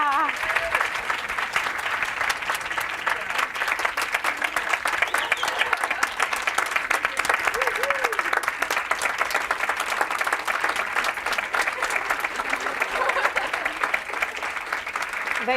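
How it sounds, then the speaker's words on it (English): Sustained audience applause for scholarship prize winners at an awards panel, steady dense clapping from a large crowd throughout with a few faint voices underneath. "I know you all will join me in one more round of applause for all of our winners here today."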